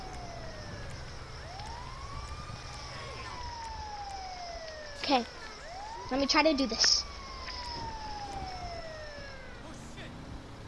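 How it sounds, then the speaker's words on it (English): Ambulance siren in the video game GTA 5 sweeps up and down in long wailing arcs at steady loudness, with brief clattering bursts partway through and a voice talking over it. "there's an ambulance"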